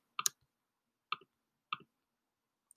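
Three sparse, crisp keystrokes on a computer keyboard, close and quiet, separated by pauses against near-silent surroundings.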